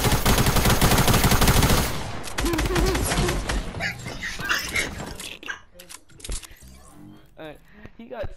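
SCAR rifle fire in Fortnite, a dense rapid burst of loud shots up front that thins into scattered hits and game sounds, with agitated talk over it.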